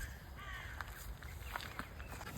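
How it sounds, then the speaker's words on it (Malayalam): Crows caw faintly at a distance in a few scattered calls over a quiet outdoor background. "നിറയെ കാക്കകളായിരുന്നു."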